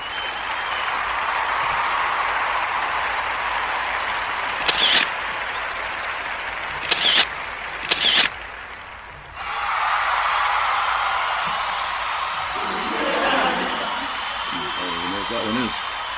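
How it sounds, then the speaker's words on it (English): Steady, rushing applause from an audience goes on at length, broken by a few sharp clicks and one brief lull before the clapping swells back. Faint voices surface near the end. "We still got like 4 seconds of applause left."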